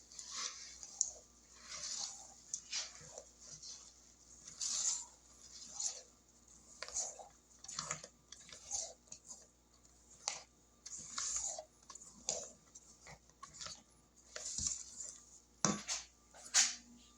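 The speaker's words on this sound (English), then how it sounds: "I'll mix those by hand." Toasted coconut and pecans are stirred into cake batter by hand, giving soft, close, irregular squishing and scraping strokes with brief pauses and no talking.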